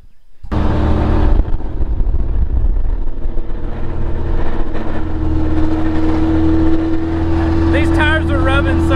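A Mazda Miata fitted with big fat rear wheels drives along with a loud, steady engine drone and road noise that holds throughout after a sudden start, with a voice talking over it.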